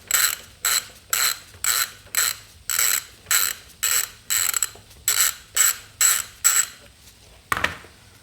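A ratchet loosening the brake pad pivot pin on a 2007-2012 Honda CBR600RR: about a dozen rapid clicking bursts in a steady rhythm, close and loud, then a final short clatter.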